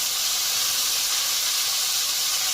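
Chopped onion and tomato sizzling in hot oil with a bay leaf, dried red chillies and whole cumin, a loud, steady, close hiss that continues without pause or talking.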